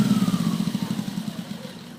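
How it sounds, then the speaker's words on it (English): A portable generator engine at an aircraft preheater chugs with a rapid pulsing beat, then winds down and loses power as it is switched off, close and without talk. "At that point, we can now shut off the generator."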